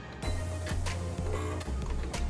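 A sewing machine stitches fabric for gym shorts, giving a steady close mechanical whir with a low motor hum that runs almost unbroken for about two seconds after a brief start.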